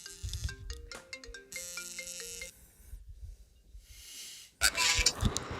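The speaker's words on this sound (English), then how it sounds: "Is that my phone?" A phone ringtone plays a run of clear, stepped electronic tones for about two and a half seconds, then falls quiet; later, a loud burst of broadband noise, like rustling or handling, follows.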